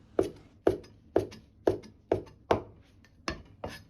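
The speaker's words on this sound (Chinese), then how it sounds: "再把香菜改刀切成段，" A knife chops coriander into short lengths on a board, eight crisp, evenly spaced cuts close by with no talking.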